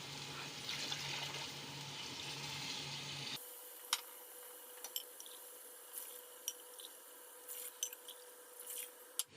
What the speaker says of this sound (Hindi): आठ गिलास हमने पानी डाला है